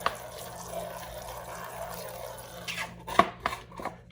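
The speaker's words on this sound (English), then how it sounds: "We'll put water in this tray." Water poured into a plant seed tray with a silicone bottom, giving a soft, steady trickle followed by a few light clunks and splashes near the end.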